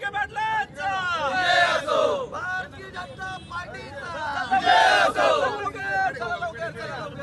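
Villagers celebrate a High Court order with loud, close crowd cheering and chanting in rising waves, with voices calling out over steady babble.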